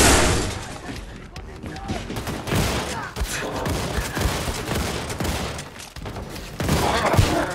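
Sustained automatic gunfire from a shooter game set in Wolfenstein II: The New Colossus, a dense, loud barrage of rapid shots with impacts and crashes running almost continuously, a voice talking over it.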